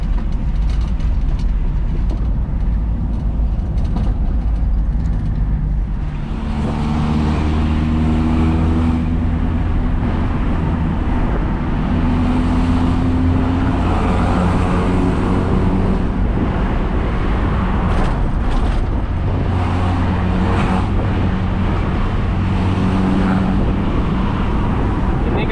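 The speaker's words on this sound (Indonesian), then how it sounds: "Ketika jalan RPM sedang ya, ini gigi 5 posisi jalan 80, suaranya cukup puas" Mitsubishi L300 van fitted with a coiled bass exhaust cruising in fifth gear at about 80 at moderate revs, giving a steady deep engine drone with road and wind rumble throughout, no talk.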